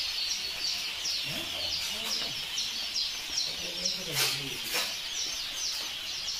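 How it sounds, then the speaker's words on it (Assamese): Ducks at a poultry hatchery peck and feed amid a steady background of chirping birds, with soft clucks and quacks and a few scattered sharper peeps throughout. "হাঁহখিনি দানা খাই আছে।"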